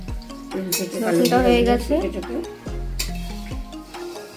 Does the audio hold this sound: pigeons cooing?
no